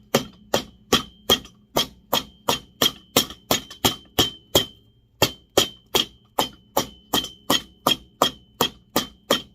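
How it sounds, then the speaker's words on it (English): Steady rhythmic hammering as a glued sole is tapped onto an old leather dress shoe, about twenty close, sharp strikes at an even pace with a brief pause midway. "after we glue it, we hammer it on"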